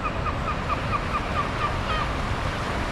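Seagulls gathered on the Jeju coast near fish-farm outflow, their repeated calls sounding at a middle distance over a steady, loud wash of waves and surf.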